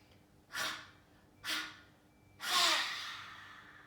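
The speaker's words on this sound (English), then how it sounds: "take a deep breath in" Three deep breaths drawn in during a guided breathing exercise, each a soft rushing inhale, the last one longest and strongest, spaced about a second apart with no talking.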